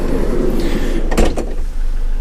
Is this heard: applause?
no